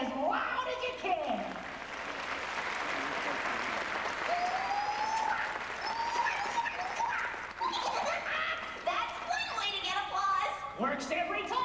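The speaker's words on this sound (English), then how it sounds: "clap your hands as loud as you can!" Crowd applause fills the scene, a dense steady clatter of many hands clapping at once, with voices calling out over it near the end.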